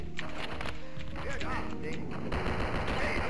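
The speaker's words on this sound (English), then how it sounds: "Get out the trusty rifle." Rifle fire in the video game Operation Eisenfaust: Origins, a few sharp shots cracking out amid dense game effects and music, with a voice talking over them.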